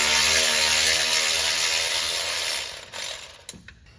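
A ratchet with a Torx T50 bit loosens a bolt on an old Ford F150, a loud rapid clicking run close up that slows and breaks into separate clicks at the end.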